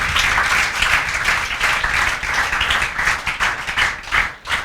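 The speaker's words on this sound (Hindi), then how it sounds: "जोरदार तालियां" Students in a classroom clap together in sustained, steady applause that stays close and loud for several seconds, with no talking over it.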